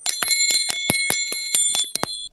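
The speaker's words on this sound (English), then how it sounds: "Sounds like you're ringing a hotel bell." A hotel desk bell rung repeatedly, about ten bright metallic dings in quick succession over two seconds, close and loud with no talking.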